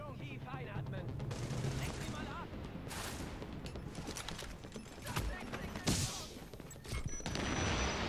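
Rapid bursts of gunfire from the video game The Division, with close crackling shots and busy combat noise running throughout, while a player talks over the action.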